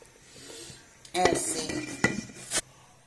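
A metal pot lid clatters and clinks against a pot of simmering beef and potato curry on a low flame, a few sharp knocks and scrapes close by after a quiet start.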